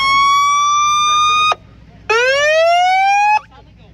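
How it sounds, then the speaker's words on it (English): Outdoor warning sirens at a siren enthusiast convention in Rhinelander, Wisconsin sound two loud sustained harmonic tones, the first held steady then cut off, the second rising in pitch before stopping, heard near and clear. "There are multiple sirens going off at once, and our cameraman cannot move around."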